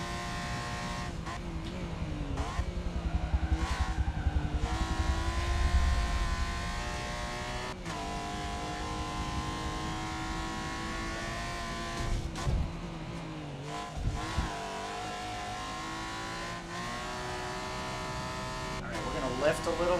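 Race car engine in Forza Motorsport on a flying lap, a continuous buzzing drone that rises and falls with gear changes and lifts, with a voice talking over it throughout.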